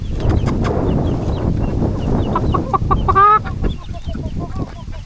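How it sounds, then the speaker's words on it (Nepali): Several chickens cluck nearby on a farm in Oahu, Hawaii, in a steady, busy chorus, with one louder squawking call rising briefly above the rest. "यहाँ कुखुरा चाहिँ मस्त आज चिल गर्दैछन्"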